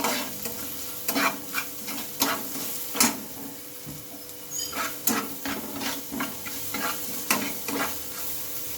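Onions frying in a pan with turmeric and salt while being stirred: a steady sizzle with repeated scraping, clacking stirs in an irregular rhythm, close and fairly loud, no voices.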